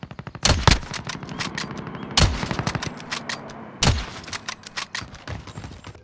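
Gunfire in the Warzone video game: three loud bursts of rapid automatic shots, each ringing out and decaying, with scattered quieter shots between them.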